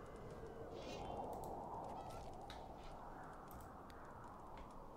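Honking fowl calls from the Gothic 3 video game, repeated over a dense, steady roar of wind, with no voices.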